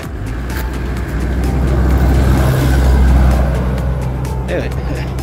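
A car approaches and passes on a narrow road along the English Riviera, its engine swelling to a loud rumble and fading, with people talking over it.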